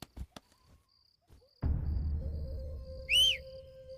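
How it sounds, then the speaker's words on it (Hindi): A short, shrill whistle blast rises sharply against a low background hum and faint room noise in a dramatic film scene, preceded by a few scattered knocks. "अरे कौन सीटी बजा रहा है ये?"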